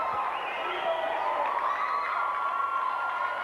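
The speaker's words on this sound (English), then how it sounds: "cheering on the results of the swimmers" A crowd at a 1991 city conference swim finals cheers after a race, with a steady wash of shouts and whoops echoing through an indoor pool hall, some voices rising above the rest.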